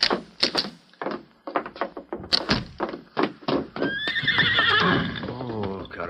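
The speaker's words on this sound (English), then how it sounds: "I saw that white horse you rode, Carlos. I'd like to have that horse." Horse in an old western radio drama, several hollow hoof clops and thumps followed by a loud, shrill whinny that rises and trails off near the end.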